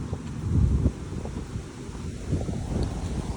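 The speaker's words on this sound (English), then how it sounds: "Quite windy today." Steady wind buffets the microphone with low rumbling gusts while out horse riding, no voices, just a continuous blustery roar.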